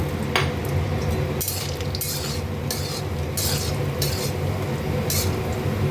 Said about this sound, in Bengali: তেলটা গরম হয়ে গেছে আমি বড়িটা ভেজে নেব